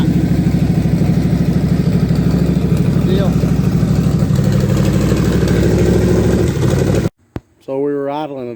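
A twin-turbo car engine tuned with MicroSquirt/MegaSquirt idles too high, a steady, loud, even drone close by for about seven seconds. It cuts off, and someone speaks.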